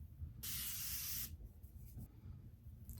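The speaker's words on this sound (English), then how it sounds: "Now I'm gonna take just a little bit more of my setting spray." A single hissing burst from a spray bottle lasts just under a second, close and loud against a quiet room.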